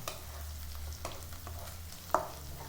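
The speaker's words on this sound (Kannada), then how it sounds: "ಜೀರಿಗೆ ಫ್ರೈ ಆಗೋದು ಸ್ಮೆಲ್ ಬರುತ್ತೆ, ಘಮ ಬರುತ್ತೆ" Cumin seeds fry in hot oil in a pan while being stirred, a steady close sizzle with soft scraping strokes and one sharper clink of the utensil near the end.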